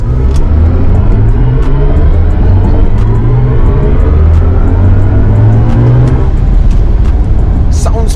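A BMW i5 M60 electric car plays its synthetic drive sound by Hans Zimmer as it accelerates, with layered tones rising and sweeping steadily over a constant low road rumble, loud and close.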